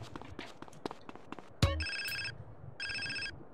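A phone rings in GTA San Andreas: two bursts of a bright electronic ringtone separated by a short gap, loud and clear over a low game background, with a brief thud just before the first ring.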